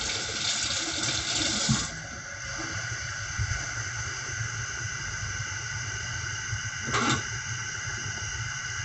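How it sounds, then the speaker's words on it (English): Tamarind juice pours into a pot of boiling rasam, a steady watery rush with a louder splash at the start and another brief surge near the end. "I'm going to add the tamarind juice"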